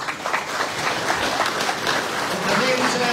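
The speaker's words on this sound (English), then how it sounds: "Round of applause again, please" A crowd at a sheep auction ring applauds a champion after a trophy presentation, a brief steady burst of hand clapping with a voice speaking over it.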